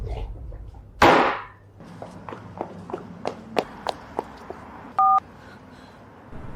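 Telephone dialing: a sharp burst, then a run of quick key taps and a clear short dial tone beep, close and fairly loud with no speech.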